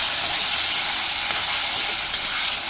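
Crushed raw tamarind chutney is stirred into hot oil in a pan, sizzling and frying with a steady, close, bright crackle throughout.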